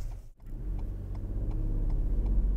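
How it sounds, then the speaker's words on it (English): A car engine revs hard in first gear and climbs steadily in pitch, a close, loud, strained drone that keeps building. "he's high revving in first gear"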